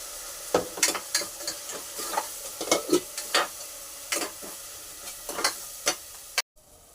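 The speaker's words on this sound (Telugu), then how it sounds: "ఉప్పేసి ఈ ఉల్లిపాయలని వేయించేసుకుందాం" Onion paste with curry leaves and salt fries in hot oil, a soft sizzle broken by repeated scraping stir strokes at an irregular rhythm, close by and without talk.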